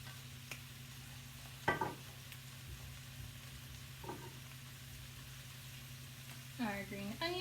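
Cabbage or bean sprouts being stir-fried for pad thai, a steady low sizzle under the whole stretch with a few louder clatters of tossing and stirring, plus a brief voice near the end.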